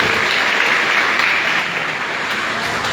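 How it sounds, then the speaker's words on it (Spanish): A parish congregation from a rural canton near El Mozote bursts into a full, continuous round of clapping, a thick wash of hands that holds steady and eases slightly toward the end. "Bueno, un aplauso."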